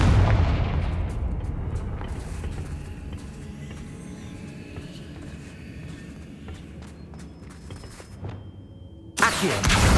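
A Confringo blasting spell detonates in the video game Hogwarts Legacy with a loud booming explosion that decays into a long rumbling tail, scattered crackles and thuds following, then another sharp blast near the end.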